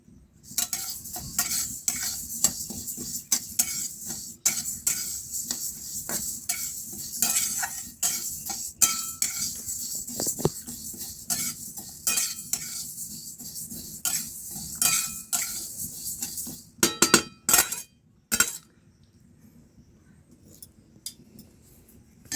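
Mung dal dry-frying in a pan, stirred with steady scraping and light rattling for a long stretch, with a burst of sharper metallic clatter near the end.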